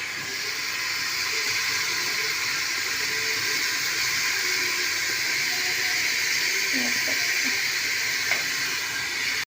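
Tomatoes dropped into a hot pan for vegetable biryani give a steady, even sizzling hiss that holds at the same level from start to finish.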